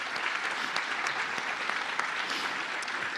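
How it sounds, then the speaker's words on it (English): Audience at a Casting Hope benefit event applauding for Liz Huntley, a steady, fairly close burst of many hands clapping, unbroken for a few seconds. "Can you join me in giving Liz Huntley a round of applause?"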